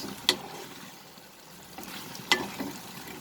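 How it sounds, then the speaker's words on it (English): Fried potatoes get mixed into a boiling soya sauce mixture in a pan, a soft continuous bubbling sizzle with two sharp clinks of the spoon against the pan, heard up close. "as it comes to boil, we will add the fried potatoes to this. Mix it."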